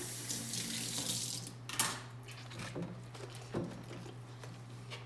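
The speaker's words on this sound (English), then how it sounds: "I'm washing my dishes before I've eaten my food" Tap water runs into a kitchen sink while dishes and a measuring spoon are washed, a steady close splashing rush with occasional clinks and knocks, with a low steady hum underneath.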